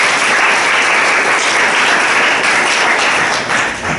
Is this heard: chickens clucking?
no